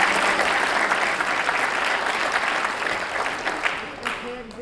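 An audience at a board of education open session applauds, sustained and fairly loud, tapering off slightly at the end with a voice faintly audible beneath.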